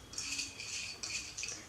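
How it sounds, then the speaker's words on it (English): Sugar crystals scrape and rattle in a coffee lip scrub being mixed, giving a close, gritty rasp in several repeated strokes with short pauses between them. "This is the sound of the sugar crystals."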